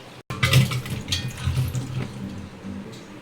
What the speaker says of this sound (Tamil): அலசி எடுத்துடுவோம், கழுவி எடுத்துடுவோம்.